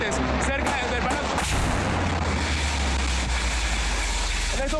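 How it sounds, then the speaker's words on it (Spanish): A rocket falls and impacts near Miraflores Palace in Venezuela, a heavy low rumbling blast amid sharp cracks and sustained roar, with a voice talking over it. "en este momento está cayendo uno de los cohetes cerca del Palacio"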